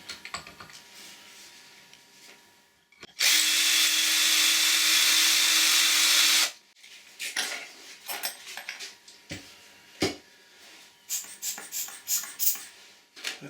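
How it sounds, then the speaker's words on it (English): A 1/8 inch drill bit boring on a small lathe, a loud steady whirring burst of about three seconds, followed by intermittent clicks and tool handling. "Now I'm going with a 1/8 drill."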